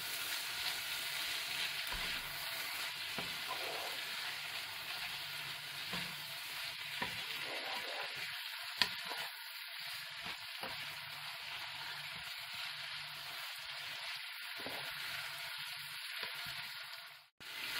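Green beans seasoned with salt and pepper sizzle steadily in a hot pan for a vegetable achar, with a continuous frying hiss broken by scraping stirs and one sharp clink of a utensil, close and without talk.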